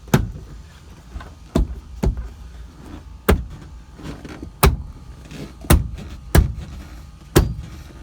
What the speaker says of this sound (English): Ooh, creaky plastic.